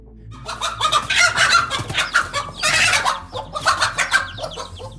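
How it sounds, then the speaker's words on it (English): Mother hen squawking loudly to scare off an eagle, a dense run of harsh, close cackles and squawks coming in repeated bursts with no talking. "She squawks loudly, flapping her wings like a master to scare that eagle down."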